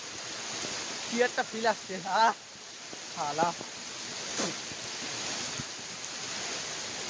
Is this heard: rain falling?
yes